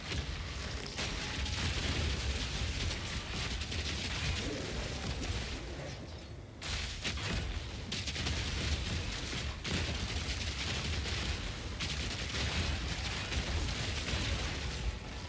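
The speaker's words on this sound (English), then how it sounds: "you can throw a gas grenade in there and it just eats them up." Dense, continuous video-game combat fills the scene with bursts, pops and crackling effects around a thrown gas grenade, loud and sustained throughout with only a brief dip near the middle.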